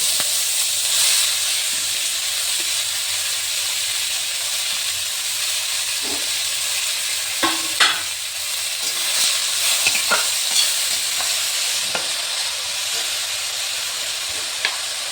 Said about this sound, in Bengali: ফোড়ন দিয়ে একটু নেড়ে চেড়ে আমি শাকটা দিয়ে দেব, পালং শাকটা দিয়ে দেব।